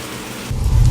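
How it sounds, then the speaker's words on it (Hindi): Heavy rain pours in a dense hiss, then a deep low thunder rumble swells in halfway through and stays loud and close, with no voices. "बाहर आसमान में बिजली ऐसे कड़क रही थी जैसे किसी अनहोनी का इशारा दे रही हो, और बारिश बेकाबू होकर बरस रही थी"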